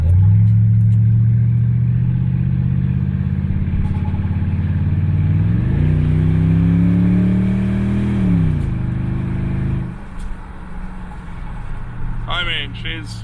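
A modded car in a racing video game revs hard, the engine note climbing in pitch then dropping off, loud and continuous under a talking voice.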